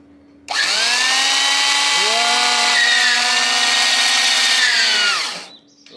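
An electric drill whirs at a steady high pitch for about five seconds, spinning up sharply and winding down at the end, loud and close.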